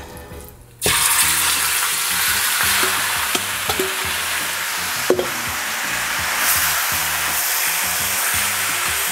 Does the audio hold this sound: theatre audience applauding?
no